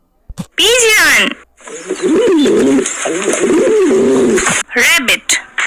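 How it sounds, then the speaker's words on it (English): A pigeon coos in a loud, continuous rolling call that swells and dips, with a short burst of another call near the start and brief sounds at the end. "Pigeon."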